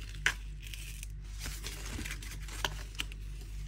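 Paper tearing after a cutting machine has cut out stamps for scrapbooking: faint, close rips and crinkles with a few sharp little peaks over a quiet hum, and no talk.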